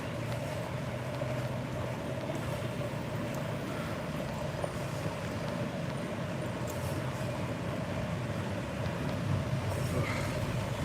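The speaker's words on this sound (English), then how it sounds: "there's a train coming down the tracks" A train rolls down the tracks in Hanoi, a steady continuous rumble with a sustained low hum and mechanical drone, constant in loudness throughout and fairly close, with no voices over it.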